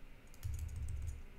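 Fingers typing a short burst of keystrokes on a computer keyboard, a quick run of soft clicks close by over a low hum.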